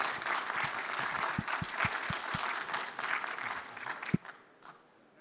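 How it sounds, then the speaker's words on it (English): A session audience applauds retiring mentor John, steady clapping with a few loud close claps standing out, running for about four seconds before stopping abruptly and leaving a quiet room. "I think you can give a big applause to John"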